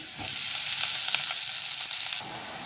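Steady close-up sizzling of minced meat and spinach frying in a pan, with brief scraping bursts from stirring, continuous for a few seconds.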